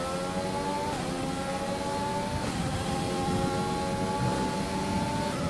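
In the F1 2020 video game, an F1 car at Zandvoort accelerates with ERS switched on, a high, constant engine whine with layered harmonics that climbs a little over a dense wash of noise, with no talk.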